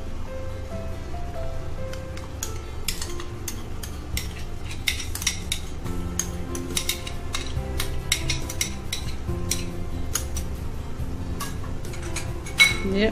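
Mango pulp is stirred into a dish, heard as a dense run of close metallic clinks and scrapes of a spoon against the pot over a low background hum.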